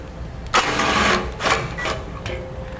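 10mm bolts being removed from a skid plate on a 2013 Nissan Frontier, several loud whirring bursts from a power tool over a steady background hum, close by.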